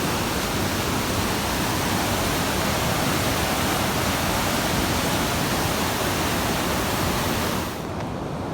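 Glacier meltwater stream rushing over mud and stones in a mountain slide area near Siachen, a loud, steady broadband roar close by that continues unbroken and drops slightly in level near the end.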